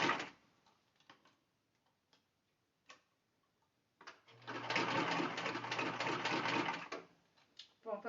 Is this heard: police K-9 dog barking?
no